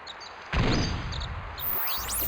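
Barrage special attack in the fighting video game Inuyasha Feudal Combat: a sudden heavy whooshing impact burst kicks in mid-clip, followed by a rising swish near the end over steady game background.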